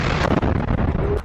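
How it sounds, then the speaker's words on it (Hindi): A Yasin 105 anti-tank RPG explodes against a Merkava tank in Rafah, a loud, close, rumbling blast with rough crackling bursts through the heavy boom over a second or so. "अल कासिम के लड़ाकों ने इस टैंक में रफा में Yasin 105 anti tank RPG fire किए जिसमें बहुत बड़ा धमाका होता है"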